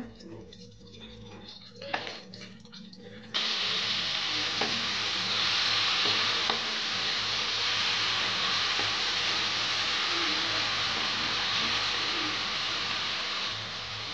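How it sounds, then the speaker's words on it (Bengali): Tomatoes frying in a pan for a mashed tomato dish give a steady, close sizzle that swells loudly after a few seconds and holds. Brief stirring and scraping sounds come first. "টমেটো ভাজা হয়ে গেছে"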